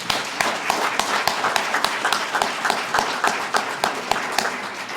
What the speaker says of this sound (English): give a round of applause to Molina Healthcare for bringing me in today